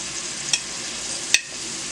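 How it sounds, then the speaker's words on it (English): Onions fry in a pan with a steady close sizzle, broken by two sharp clicks of a utensil against the pan. "Going to add to that the onions right now, just the onions for now."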